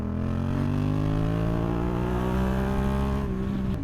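A Yamaha MT motorcycle engine drones loud and close, a steady, throaty hum whose pitch creeps slightly upward before easing off near the end.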